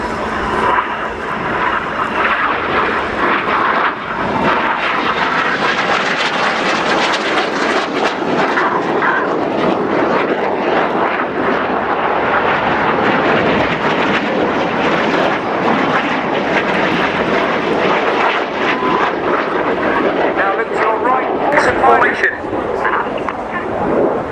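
A jet aircraft in an air show display at the Royal International Air Tattoo 2013 roars continuously overhead, a loud, broad engine rush that swells and fades, with a commentator's voice running over it.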